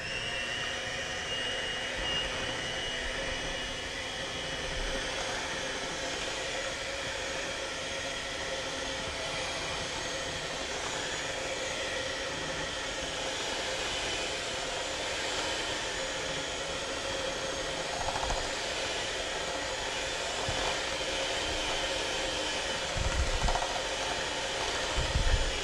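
An electric mixer beats cake batter with a can of cherry pie filling stirred in, giving a steady, loud motor whir that drones on without a break for the whole stretch, with no talking over it.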